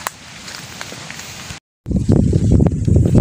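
Strong wind buffets the microphone outdoors on a walk to find a waterfall, first as a steady low rumble, then after a brief dropout as louder, gusty roaring blasts.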